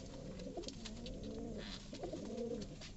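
Pigeons cooing steadily in a village loft on a hot summer day, several soft overlapping low coos repeating throughout, close by, with faint rustling and no talk.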